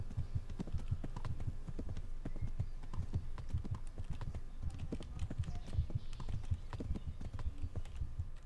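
Horse hooves clip-clopping in the medieval video game Kingdom Come Deliverance, a steady, fairly quick rhythm of distinct hoofbeats sounding close and continuing throughout.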